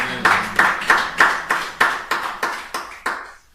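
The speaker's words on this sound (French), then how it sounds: "c'est peut-être pour moi que vous avez applaudi, parce que j'aime les applaudissements" A church congregation applauds in rhythmic unison, about eleven loud, evenly spaced claps ringing in a reverberant room before fading out.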